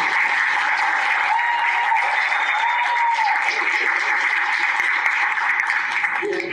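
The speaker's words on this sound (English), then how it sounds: "And applaud especially when you see that sign go." Studio audience at a live Christmas old-time radio show breaks into steady applause, a continuous dense clapping that holds at even loudness throughout.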